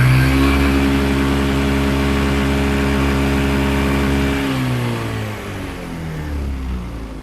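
A Yamaha ZR 125 BS6 fuel-injected scooter engine runs steadily in a loud, close, continuous drone, then the pitch shifts and dips partway through as the engine speed changes, with no talk.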